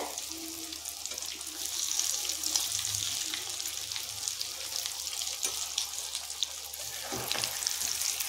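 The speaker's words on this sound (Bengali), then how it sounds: "আর একবার এটাকে উল্টে পাল্টে ভেজে নেব ভালো করে" Potato pakoras coated in oat flour deep-frying in hot oil as they are turned, giving a steady close bubbling sizzle with faint scrapes of a spoon, no talking.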